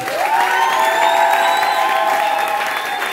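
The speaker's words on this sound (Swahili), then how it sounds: "Makofi yake yako wapi?" A church congregation claps and cheers together in a steady, dense wash of applause, with raised voices and whoops ringing through it from start to finish.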